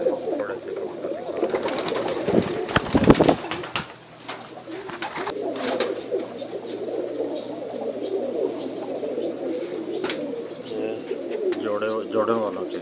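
Fancy pigeons coo softly and repeatedly at close range, with brief bursts of rustling and flapping mixed in and a low hum underneath.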